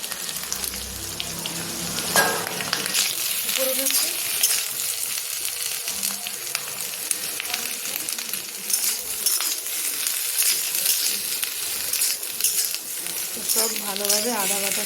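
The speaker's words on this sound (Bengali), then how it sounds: "সব ভালোভাবে আদা বাটার সাথে মিলিয়ে দিলাম সবজিগুলো" Mixed vegetables sizzle and fry in a pan with ginger paste while being stirred: eggplant, pumpkin, ridge gourd, green chili, papaya, taro, potato and pointed gourd. The crackling is steady and close, with scraping stirs throughout.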